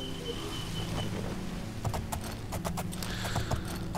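Horse hooves clip-clop in Oblivion, a stream of sharp, evenly spaced strikes from about two seconds on, over a steady low ambient drone, with no talk.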